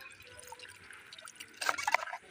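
Wild taro (kochu) being washed in water, soft drips and small splashes that grow louder and more frequent toward the end, close and faint over a quiet background.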